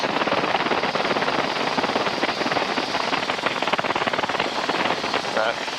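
A Rotorway helicopter is in flight, heard from inside as a loud, steady, broadband rotor and engine roar with rapid blade chop and wind rush throughout.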